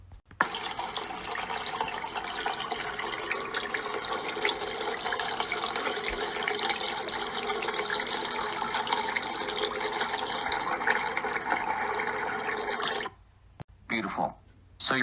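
Water is poured steadily into a container in a continuous, loud, close rush that lasts around thirteen seconds, then cuts off and leaves a few brief trickles and splashes.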